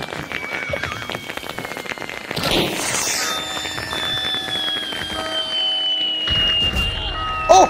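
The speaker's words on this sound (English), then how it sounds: "These are my alert trip mines." Alert trip mines go off in Hunt: Showdown as a sharp burst followed by crackling, sparkling noise and a sustained ringing tone, with a second burst near the end, loud and close.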